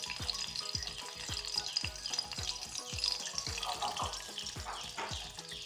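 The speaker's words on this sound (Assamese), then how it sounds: "এয়া ডিম তেল গৰম হোৱাত দি ল'লোঁ" Egg frying in hot oil in a pan for an omelette, a steady loud sizzle with a regular beat of low knocks from a spatula or pan throughout.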